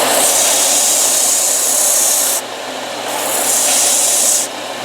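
A steady abrasive whir of power sanding against curved carved wood, fading briefly then returning, continuous and close with no talking.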